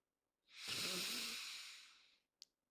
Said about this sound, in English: I would like for you to just breathe in.